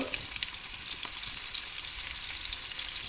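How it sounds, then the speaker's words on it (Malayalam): Chicken pieces frying skin side down in a very hot pan with ghee give a steady, dense sizzle that holds evenly for the whole stretch, close and loud, with no talking. "നമ്മുടെ പാൻ നല്ല ചൂടായി വരുന്ന സമയത്ത് chicken skin side down first കേട്ടോ."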